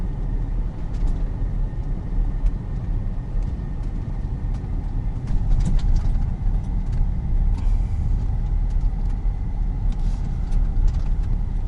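A large RV rolls slowly into a park lined with park models in Florida. Its engine and tires give a low, steady rumble at close range, with faint rattles and creaks on top and no talk.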